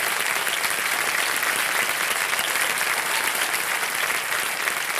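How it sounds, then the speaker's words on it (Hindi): A studio audience at a junior quiz show claps steadily and energetically, a dense even wash of applause that holds at a constant level for several seconds with no voices over it. "जोरदार तालियां बज जाएं इनके लिए।"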